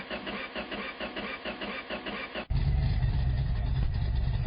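Car engine on a dyno, first a pulsing, lumpy idle, then an abrupt jump to a loud, sustained full-throttle roar with heavy low-end rumble.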